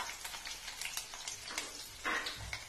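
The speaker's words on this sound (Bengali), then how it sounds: "এর ভেতরে আমি পেঁয়াজ কুচিগুলো দিয়ে দিচ্ছি।" Chopped onions tipped into hot mustard oil for a boiled egg and capsicum curry, giving a soft steady sizzle with a brief louder hiss as they hit the pan and light stirring scrapes.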